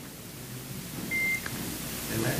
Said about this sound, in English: What's that beep?